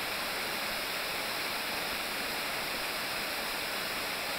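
Steady, dense rush of the Tio França waterfall, a continuous broadband wash of falling water with no breaks or voices, moderately loud and unchanging throughout.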